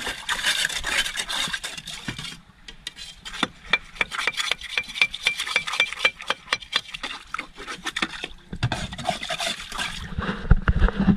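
Repeated rough scraping strokes while cleaning a fish or boat, a fast rasping rhythm of short strokes, close and moderately loud, with brief pauses between bursts.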